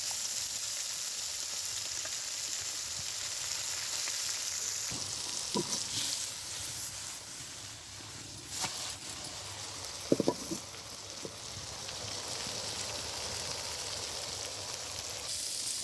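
Hilsa fish and eggplant frying in a pan, a continuous soft sizzle and hiss with a few faint clinks of a utensil.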